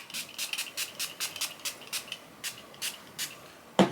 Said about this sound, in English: so all I'll be doing is just spraying my face